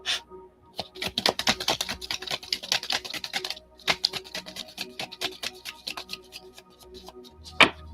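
Oracle cards shuffled by hand during a tarot-style reading, a rapid run of crisp flicks and taps close up, then a pause and a few separate snaps, with no talk.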